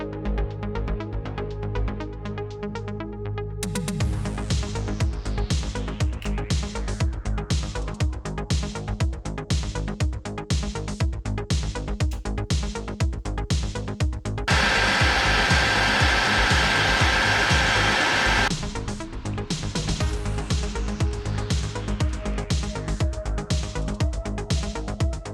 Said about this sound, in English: I've gotten us a hairdryer from my mum